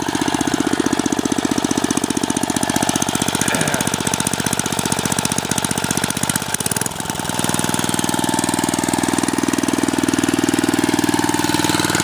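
A Troy-Bilt rototiller's engine runs loud and close with a rough, rapid pulsing chug as its tines spin. It holds steady revs, dips briefly about two-thirds through, then roars back up to a sustained, slightly higher pitch.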